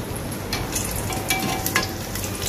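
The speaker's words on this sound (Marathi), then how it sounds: "तर काजू हा शॅलो फ्राय झालेला आहे" Halved cashews shallow frying in hot oil in a pan, a steady close sizzle with crackling pops and brief scraping stirs throughout.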